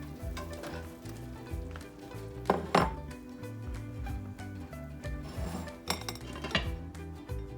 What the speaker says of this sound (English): So the next thing I'm gonna add is the papaya, which has been cleaned.